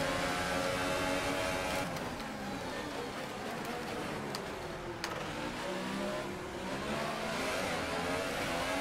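Formula 1 cars in F1 2018 roar steadily at high revs, their engines whining in overlapping pitch sweeps as the field streams past, fairly quiet in the mix.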